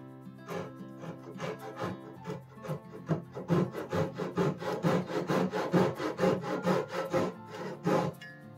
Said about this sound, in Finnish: Mutta joo, sahataan tosta nyt sitten toi